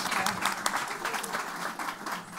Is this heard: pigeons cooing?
no